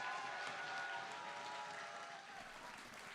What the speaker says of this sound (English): they deserve as much applause.